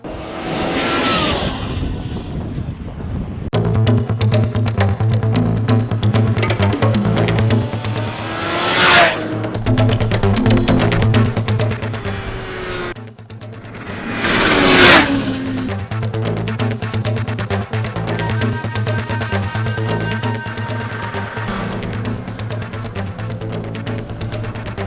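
A Kawasaki Z H2 naked motorcycle screams around a road course at a 2020 launch, its engine revving hard and climbing through gears with sharp rising sweeps and brief dips between shifts, loud and close throughout.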